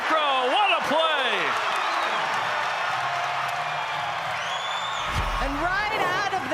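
A crowd at a USC vs BYU men's college volleyball match roars and whoops loudly and steadily, with cheers rising and falling throughout. A commentator talks over the din.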